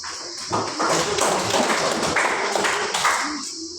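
A classroom of students clapping hands together in a lesson, a dense, steady burst of many overlapping claps lasting a few seconds at close range, with a few voices mixed in.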